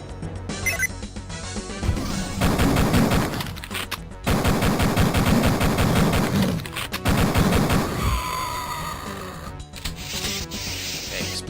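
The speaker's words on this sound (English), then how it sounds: "Shotgun." Shotgun blasts ring out in the first-person shooter Duke Nukem 3D, loud dense bursts of gunfire in several long volleys with brief gaps between them.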